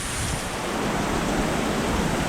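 Heavy rain pours down hard and steadily, a dense, loud, even roar of water with no breaks or voices.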